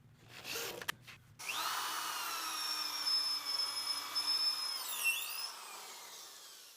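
A power drill drives screws into wood blocks on a 2x4 workbench, a brief starting whir followed by a sustained, rising whine with slight pitch shifts as the screw seats, fairly close.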